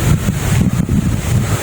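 Wind blowing across a coconut farm in Buenavista, Quezon, a steady loud rushing buffet against the microphone with gusty low rumbles and no voices.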